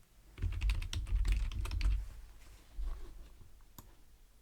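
Fast bursts of clicky computer keyboard typing are close and fairly quiet, with a low hum underneath and a few isolated key clicks afterward.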